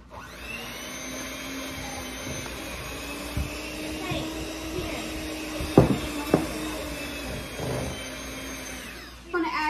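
An electric mixer beats flour mixture into cake batter with a steady motor whine, punctuated by a few clanks and knocks of the beaters against the bowl, then cuts off at the end.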